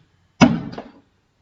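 A door swinging shut with a single close thud followed by a brief rattling tail, short and fairly loud in an otherwise quiet space.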